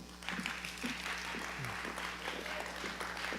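An audience claps for the 2022 inductees at a National Honor Society induction ceremony, a steady, moderate patter of many hands over a low hum with faint voices mixed in.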